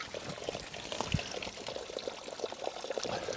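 Alaskan glacier spring water pours steadily into a container, a bubbling, splashing trickle that continues unbroken for a few seconds with no voices.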